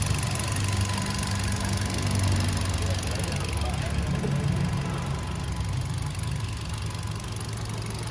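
The 1.25-litre engine of a 2015 Kia Morning with a manual gearbox idles nearby, giving a steady, even mechanical hum with a light ticking texture at constant level.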